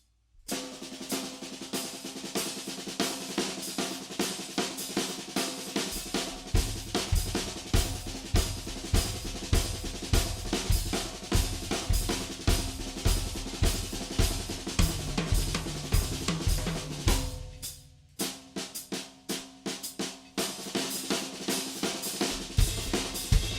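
Drum kit playing paradiddles grouped over sixteenth-note triplets, a fast, dense, steady stream of strokes with kick and cymbals, loud and close throughout, with a brief drop near the end before resuming.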